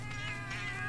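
Cat companions in the Monster Hunter Generations video game meow steadily, a close, continuous game-audio cat vocalization with a slightly wailing quality over a low background hum, no talking.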